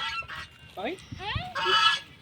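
Loud, nasal honking calls from a few nearby ducks in quick bursts, close and harsh with brief pauses between them.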